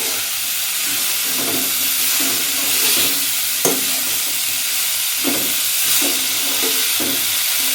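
Broccoli and potatoes being stirred in a hot pan, with a steady loud sizzle and steam hiss throughout and repeated scraping strokes of a spoon against the pan at a moderate rhythm.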